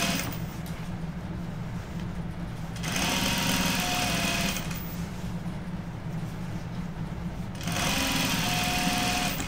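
A sewing machine runs in two long bursts while stitching a jeans seam in one continuous pass, a steady close mechanical whir with a quieter pause between the runs.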